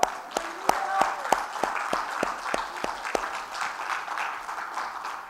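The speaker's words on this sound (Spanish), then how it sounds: "Dele palmas al Señor." Church congregation clapping in praise, a run of sharp rhythmic claps standing out at first and then merging into steady applause and crowd noise, with voices mixed in.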